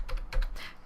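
Quick keystrokes on a computer keyboard while a dimension value is entered into CAD software, several crisp close taps in a short irregular burst with no talking.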